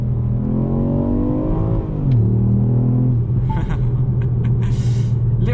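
A 2023 Ford Puma ST with the 1.0 EcoBoost hybrid engine, heard from inside the car. The engine drones and climbs in pitch, drops sharply as it shifts into second, then settles into a steady, loud hum with a few light clicks.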